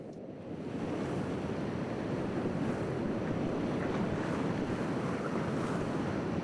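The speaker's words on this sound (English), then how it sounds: "We'll now practice this here at Taskavag, in choppy water, underneath the spectacular mountains of Skye." Choppy sea water off the Isle of Skye at Taskavag washes and slaps steadily under strong wind buffeting the microphone, a continuous rough rushing wash with no voices.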